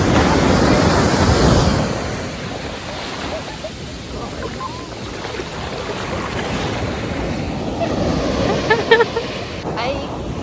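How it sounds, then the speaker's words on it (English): Ocean waves wash onto a beach in Goa, a loud rushing surge that eases into a softer continuous wash, with wind buffeting the microphone and faint voices in the distance. "waves."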